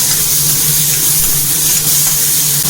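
Bell peppers (green, red and yellow capsicum) fried in a pan for baked white sauce pasta, giving a loud, steady, close sizzle with a constant hiss and no talking.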